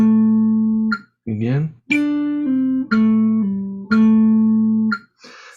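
Beginner lead electric guitar pull-offs played against a metronome: sustained notes stepping down in pairs, with a sharp click roughly once per second, close and steady. A voice speaks one brief word partway through.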